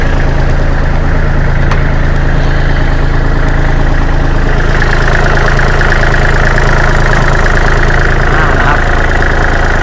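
A Kubota L3408DT tractor engine idles steadily and close by, with a low continuous diesel throb and rattle that runs unchanged for about ten seconds, and no one talks.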